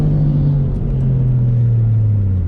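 Two JDM drift cars run a tandem lap together, their engines a loud, close, steady rumble with a droning tone that slowly falls in pitch.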